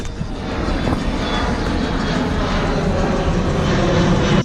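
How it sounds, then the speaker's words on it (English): Airplane passing close overhead near Charlotte Douglas (CLT) airport, its loud jet roar filling the whole stretch steadily and swelling slightly toward the end. "and a plane."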